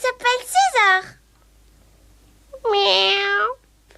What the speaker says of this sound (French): En français, cet animal s'appelle un chat.